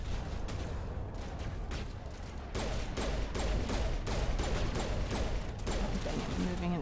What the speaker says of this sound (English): It's very hard to shoot uphill here.